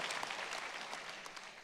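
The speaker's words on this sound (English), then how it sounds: "Let's give her another big round of applause." An audience at an international women's peace conference gives a round of applause, soft and distant but dense and continuous, with many hands clapping together.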